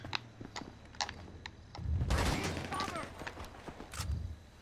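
Gunfire in GTA V Online: a sustained burst of shots over about a second, then a shorter second burst, against ongoing game noise.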